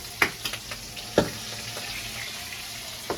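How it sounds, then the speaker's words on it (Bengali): Fish frying in oil, a steady sizzling hiss broken by a few sharp pops and spatters, close by and with no talking. "একদিকে একদিকে মাছ ভাজছি"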